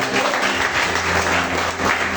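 A church congregation claps in praise during a Portuguese-language worship service, loud, dense and continuous applause filling the whole moment.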